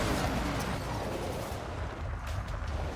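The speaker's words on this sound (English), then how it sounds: "Oh, they're setting off fireworks in the parking lot." Fireworks going off in a parking lot, a dense crackling burst of pops and booms heard at a distance, fairly faint and continuous, with no voices.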